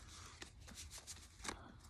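A deck of tarot cards is shuffled quietly, giving a faint, brief riffle of soft flutters and slaps.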